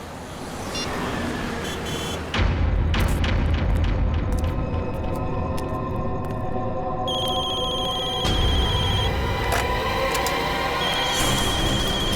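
A telephone rings repeatedly with incoming calls in a crime drama scene, with tones sounding over a dense, loud layer of booming dramatic background sound that runs throughout.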